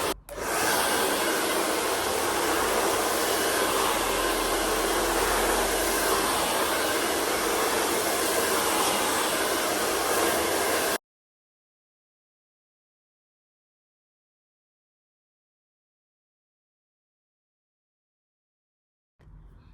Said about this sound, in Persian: دوباره با باد گرم سشوار.